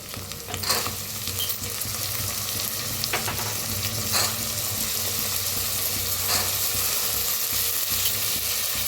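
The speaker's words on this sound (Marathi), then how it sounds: "आता वाटाणे बी नाही भाजून घेऊया कांद्याबरोबर।" Soaked green peas roasting with onions in a hot pan give a continuous crackling sizzle, close and loud, with a few sharp stirring knocks and no talking.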